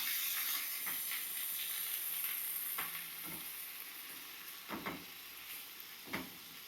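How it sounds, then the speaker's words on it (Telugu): Tender okra pieces frying in hot oil, a steady close hiss and sizzle with occasional soft stirring clicks, no talking. "ఇప్పుడు బెండకాయ ముక్కలు వేసేస్తామండి."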